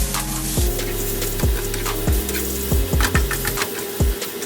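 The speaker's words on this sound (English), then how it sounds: "we're just going to give that a good old stir" Chilli con carne being stirred in a frying pan, steady sizzling under a run of repeated scraping strokes and knocks of a utensil against the pan, close by and without talk.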